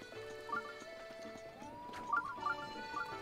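Horse hooves clip-clop in Breath of the Wild (The Champion's Ballad), a few light, fairly close hoof taps over a steady tonal music bed, with no voices.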